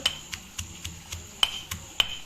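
Steady rhythmic pounding, about nine sharp thuds in quick succession, like a pestle striking chilli and coconut in a mortar, close by.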